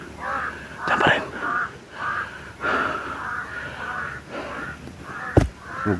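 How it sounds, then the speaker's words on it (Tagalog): Crows in a video game caw harshly several times in a row, loud and close, each call spaced a little apart over a steady background hum. "So gusto akong ituro ng mga uwak."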